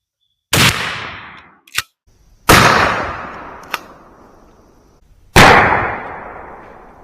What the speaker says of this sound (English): here's shot number 3 with the Winchester SuperX's,